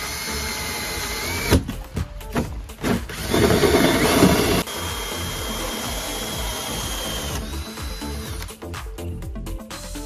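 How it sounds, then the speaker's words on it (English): A power drill bores a 10 millimeter drain hole through a fiberglass plant growbed. The whirring and grinding comes in uneven, loud bursts that build to a dense, harsh stretch and then settle into a steadier drone, with no talking. "We drilled a 10 millimeter drain hole on the 50 millimeter"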